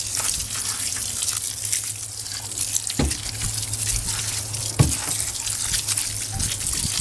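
Water pours steadily into a 55-gallon worm farm drum full of manure, covered with shade cloth. A continuous close splash and gush runs throughout, broken by a couple of sharp knocks.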